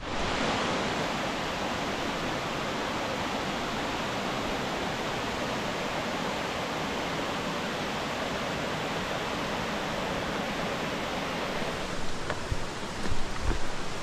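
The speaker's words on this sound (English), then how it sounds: "So that was Twin Falls." Twin Falls, a waterfall reached by a hike along a creek, pours in a steady, dense broadband roar that fills the scene without pause, close and loud, with a few faint knocks near the end.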